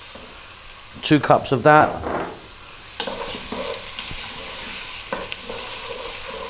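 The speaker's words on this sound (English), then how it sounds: "We're then going to go in with our lentils" Lentils tipped into a hot pot of spicy dal with roughly cut potato over vibrant heat, stirred with a soft scraping sizzle after a short burst of speech; steady frying hiss continues underneath, fairly close.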